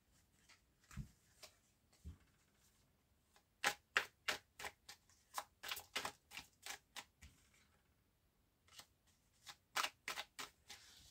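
Tarot cards being shuffled for a nine-card spread, quiet papery riffles and taps in short uneven bursts and clusters, close up with no talking.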